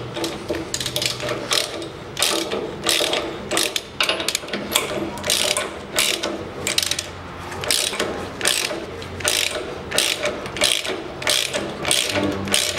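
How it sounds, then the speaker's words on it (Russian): A ratchet clicks rapidly and repeatedly while bolts are tightened on the spring shackles of a 1982 Land Rover Series III. The bursts of close, sharp pawl clicks come in an uneven rhythm with no voices. "болты я затянул на серьгах"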